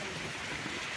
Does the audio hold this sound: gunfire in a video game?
no